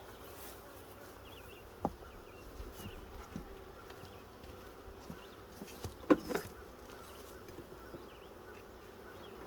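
Soft, continuous buzzing of honeybees at an open hive during an inspection hums throughout, quiet and close, with a few brief knocks and rustles.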